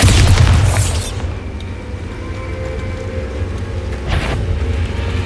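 A Bombarda spell explosion in Hogwarts Legacy, a heavy booming blast up front that decays into a low rumble, with a second burst near the end.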